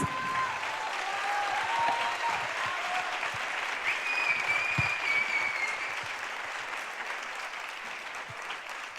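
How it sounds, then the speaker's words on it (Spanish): A crowd at a women's parliament gathering on feminism gives sustained applause for two speakers, steady clapping that slowly tapers, with a few faint voices in the room. "Un gran aplauso para Sara Vázquez y Laura Ortiz."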